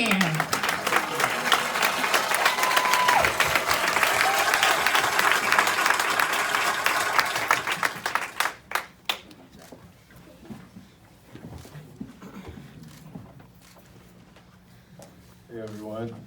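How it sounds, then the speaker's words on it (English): A crowd at an author's talk gives dense, loud applause and clapping for about eight seconds. It then thins into a few scattered claps and fades to room quiet, with voices near the end. "Come on now, let's clap your hands."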